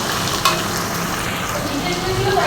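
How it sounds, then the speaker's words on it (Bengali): Ground spices and chopped tomatoes fry in a pan for chicken rezala, making a loud, steady sizzle with a brief stirring scrape partway through, close up and unbroken by talk. "এবার এগুলো সব কটা মশলা ভালো করে ভেজে নেব"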